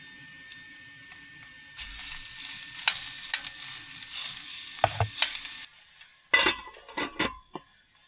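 Meat hits hot oil in a pan outdoors in a forest for bolognese, a bright hiss of frying that rises suddenly, with occasional clicks and clanks of utensils, then a few louder knocks after the sizzle drops away.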